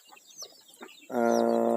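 Joper chickens in a coop make soft, scattered clucks and chirps, then one bird lets out a loud, drawn-out squawk that fills the end.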